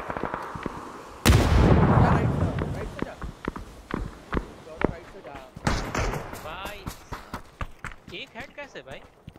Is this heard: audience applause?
no